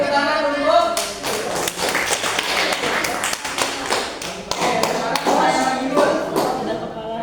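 Classroom pupils clap in quick irregular bursts, close and fairly loud, with voices chattering over the claps throughout.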